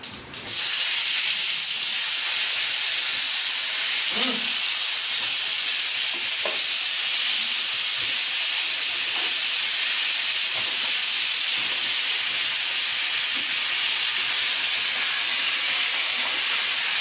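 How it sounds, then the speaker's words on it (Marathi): Cumin seeds sizzle in hot oil in a heated kadhai, a loud and constant close-up hiss that holds steady, with a few small pops and spoon taps. "आता जिरं टाकते. हे बघा जिरं कसं होतंय."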